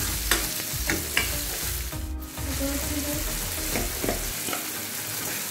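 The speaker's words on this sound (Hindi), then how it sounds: "अभी हम ये मसाले को अच्छे से फ्राई कर लेते हैं थोड़ी देर तक।" Tomatoes and green chillies fry with spices in a karahi, giving a loud continuous sizzle broken by repeated scraping stirs of a spoon against the metal, with one short dip in the noise partway through.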